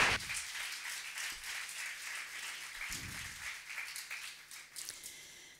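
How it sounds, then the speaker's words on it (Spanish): Audience at a poetry book presentation applauds three speakers: a steady, soft wash of clapping that runs throughout at moderate distance, with a few low thumps near the start and just before the three-second mark. "Un fuerte aplauso para las tres."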